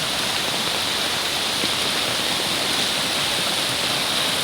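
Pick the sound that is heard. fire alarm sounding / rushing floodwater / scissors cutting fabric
rushing floodwater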